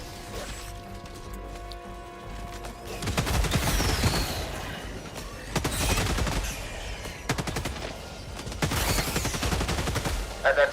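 Rapid video game gunfire and blasts arrive in three dense bursts of crackling shots and heavy impacts, loud and close, separated by quieter stretches of game ambience.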